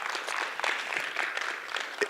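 Audience clapping at a talk in a speaker series, a short burst of scattered applause from a modest crowd, steady and fairly quiet throughout the brief moment.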